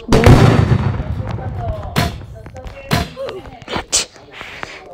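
Gunfire in a Roblox shooter game, a heavy booming blast followed by several sharp separate shots and thuds spaced across the moment, loud and close, with a voice speaking briefly among them.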